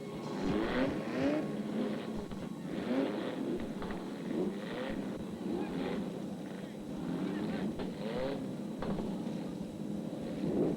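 Dirt-track race cars engines drone and surge in repeated passes, a rough buzzing roar rising and falling with wind-like rumble and outdoor noise throughout.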